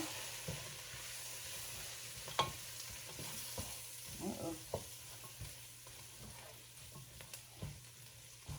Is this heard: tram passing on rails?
no